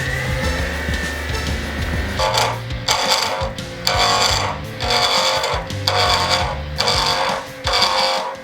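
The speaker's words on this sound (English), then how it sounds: "Just mount your blanks and start turning it." A wood lathe spins a pen blank on a mandrel with a steady motor hum, while carbide scraping tools make repeated rhythmic bursts of cutting noise, roughly one per second, close and fairly loud.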